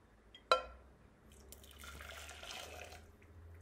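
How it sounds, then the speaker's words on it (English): Monster Energy drink poured from a can into a bowl to make jelly: a sharp click near the start, then a steady splashing pour of liquid running for a few seconds, close and moderately loud. "so basically, we're just gonna pour this in now"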